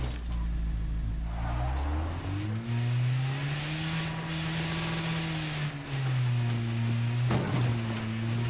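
A survey car in a driving video game hums along continuously, engine pitch rising and falling with throttle as it explores a fresh map, steady and prominent throughout with no speech.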